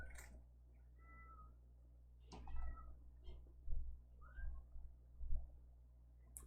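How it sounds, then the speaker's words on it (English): A cat stuck outside meows several times through a quiet room, a few faint, distant-sounding cries spread across the span over a low steady hum. "I'm sorry if you can hear my cat, she's stuck outside again."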